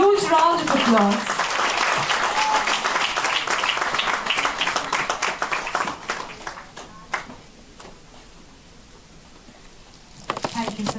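An audience applauds at an international conference on Industry 5.0: a voice speaks briefly at the start, then dense, sustained clapping gradually thins and fades to near quiet before a short burst of claps returns at the end.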